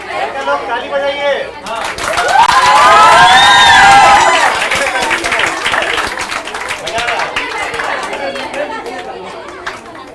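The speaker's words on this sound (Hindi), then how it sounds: "ताली बजाइए।" Audience at a coaching-class farewell celebration and prize-giving claps and cheers, swelling into a loud burst of shouts and applause before settling into steady crowd chatter and scattered clapping.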